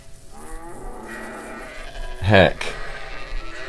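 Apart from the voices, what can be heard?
cow and sheep sounds in anime Vinland Saga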